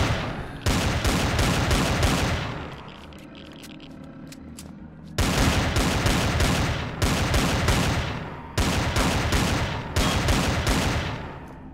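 Rapid automatic gunfire in the space survival game Empyrion Galactic Survival, loud sustained bursts that stop and restart several times with brief quieter gaps between them.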